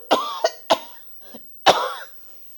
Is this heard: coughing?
yes